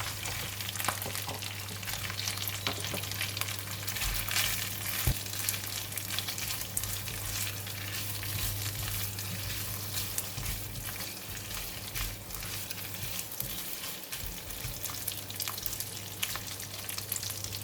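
Crispy pork stir-frying in red curry paste for a Thai dish with long beans, a steady dense sizzle with faint stirring scrapes running continuously and close, with a low steady hum underneath and no talking.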